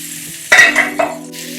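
Pumpkin sabzi is stirred in a pan: a spoon scrapes and clatters in a couple of quick bursts over a close, steady frying sizzle, with no talking.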